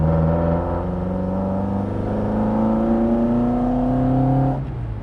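A classic Fiat 124 Sport Coupe's first-generation engine hums steadily at idle, its pitch slowly rising as it revs up, then dropping back near the end.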